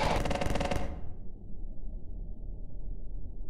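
G-Toilet fires laser guns in a game-style scene, a loud rapid burst of crackling blasts that cuts to a dull, rumbling low drone.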